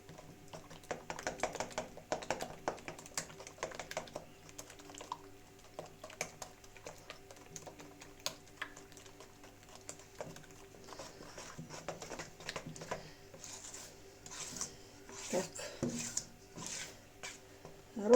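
Yeast pancake batter of milk, flour and eggs stirred in a bowl, giving irregular soft tapping and scraping strokes up close, growing busier toward the end.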